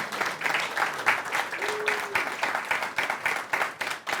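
An audience at the Raptor Tank 2024 pitch event gives a round of applause, many hands clapping in a lively, continuous patter with a few sharper individual claps.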